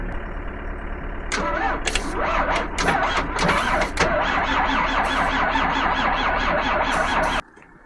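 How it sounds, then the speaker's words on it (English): Old engine cranked on weak, aging batteries with ether sprayed in, a steady labored starter whir and churning that never catches, running several seconds before cutting off. "Even with the ether, the batteries just didn't have enough to even spin it quick enough to fire."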